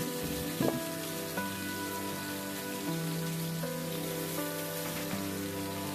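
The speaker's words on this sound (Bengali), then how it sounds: "সব উপকরণগুলোকে এবারে ভালো মতো ভেজে নেব।" Okra, capsicum and ridge gourd fry in a pan with a steady, dense sizzle like rain on a surface. It continues without a break throughout, with a few faint clinks of a utensil underneath.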